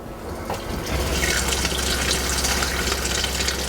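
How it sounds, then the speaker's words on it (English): An upgraded, quieter water pump runs in an Airstream Interstate 19, with a steady rushing flow of water that swells after a moment and then holds a constant, moderately loud wash. "It is quieter than the original water pump."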